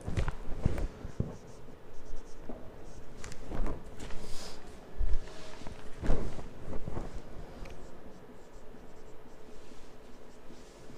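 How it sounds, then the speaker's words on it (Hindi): Difficult words are written out by hand for a primary-school science homework lesson, a steady scratching of pen on paper with small taps and pauses between strokes, close and fairly quiet with faint room noise and no speech. "यहाँ पे मैं कुछ लिख देती हूँ डिफ़िकल्ट वर्ड्स"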